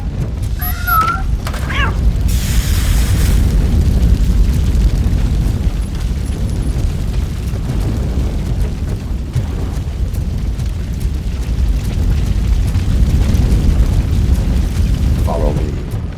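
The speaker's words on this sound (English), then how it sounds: "Fire is blocking the way." A fire burning and blocking the way in RoboCop: Rogue City, a loud, dense roar of flames with low rumbling that holds steady throughout, plus a few faint tonal game sounds at the start and end.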